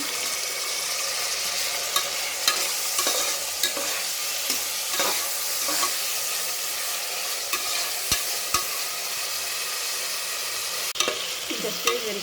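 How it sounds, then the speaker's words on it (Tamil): Tomatoes sautéed with fried onions in a pan for vegetable biryani, a continuous close sizzle with repeated scraping stirs and occasional clinks of the spoon against the pan. "இப்போ நம்ம தக்காளி போட்டு நல்லா வதக்குங்க"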